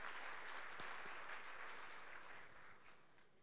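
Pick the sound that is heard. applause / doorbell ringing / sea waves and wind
applause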